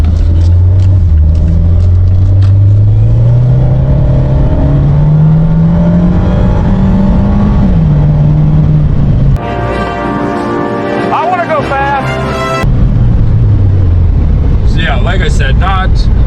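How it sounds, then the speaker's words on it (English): A Fiat car on the move, its engine rising in pitch as it accelerates and then dropping at a gear change, with a steady road rumble throughout. "that's driving the Fiat"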